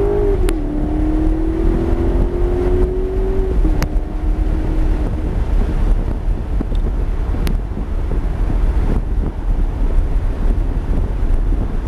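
A Maserati GranTurismo S accelerates hard on a track-driving course, its engine note climbing steadily before easing off, half buried under heavy wind buffeting across the microphone.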